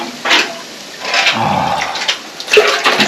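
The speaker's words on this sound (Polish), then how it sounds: "No jest studnia. A jaka woda? Się okaże. nabiorę." Water sloshes and splashes as a container scoops from a rural well in a forest area, with several short watery bursts and pours in close succession, fairly near and moderately loud, no talking.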